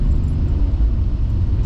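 A BMW E39 525 TDS diesel saloon on the move, its low engine and road rumble steady and close for the whole stretch, with no talk over it.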